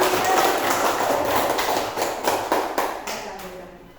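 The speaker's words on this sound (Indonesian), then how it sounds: "tepuk tangan untuk kelompok auditori" Children in a fourth-grade classroom clap together in a dense burst of applause that gradually thins and fades out over a few seconds.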